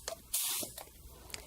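Vinyl dye sprayed onto a chair in short bursts, one longer hiss in the middle with fainter puffs around it, quiet and close.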